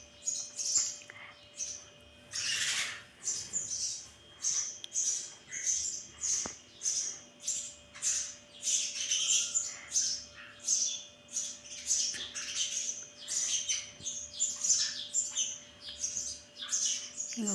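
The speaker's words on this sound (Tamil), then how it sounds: "2 குருவி வந்துடுச்சு போல்." Two sparrows chirp continuously nearby, a steady stream of bright, rapid, high-pitched tweets over a faint constant hum, with no talking.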